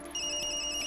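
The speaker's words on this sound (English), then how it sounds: "Sorry, Yumi, that's my phone" A phone ringtone from the horror video game Tokyo Dark rings steadily as a sustained electronic tone, fairly quiet, with no talk over it.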